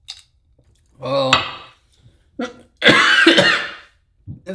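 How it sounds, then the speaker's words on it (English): Someone coughs while eating ramen, with two harsh, close coughing fits separated by short quiet gaps and a faint clink of dishes. "it's never good to cough while you're eating ramen"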